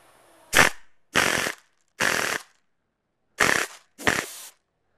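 Crosman airgun converted to run on compressed air and firing airsoft BBs into a cloth, giving five sharp, loud pops in an uneven rhythm with short hissing tails and silence between them.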